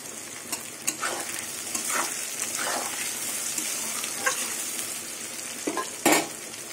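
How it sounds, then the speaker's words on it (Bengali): Potato and onion pieces fry in a pan with a constant sizzle, broken by intermittent clinks and scrapes of a spoon stirring against the metal, close and moderately loud with no talking. "এবার আলু আর পেঁয়াজ কিছুক্ষণ ভেজে নেব।"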